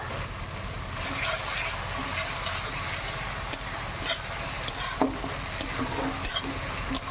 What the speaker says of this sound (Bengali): আদাটাও ভালো করে ভেজে নেই।